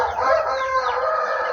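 A Japanese rooster crows close and loud, one drawn-out harmonic call filling most of the moment, with no voices over it.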